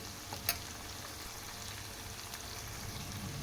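Gentle, steady sizzling as green chili paste goes into a pan of softened ridge gourd pieces, with one brief sharp clink near the start and no voices.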